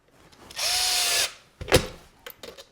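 A power drill drives stainless steel screws into saddle leather during western saddle construction: a steady high whine for about a second, then short bursts and clicks as the bit seats, close and fairly loud.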